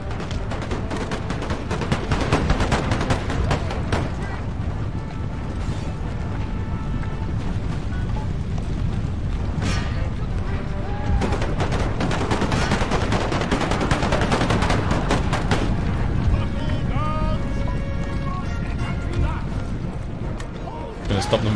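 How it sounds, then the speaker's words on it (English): Musket volleys from units in Empire: Total War keep crackling throughout as dense, overlapping rolls of gunfire, loud and continuous, with someone talking over the battle noise. "Gonna stop them firing as we engage them."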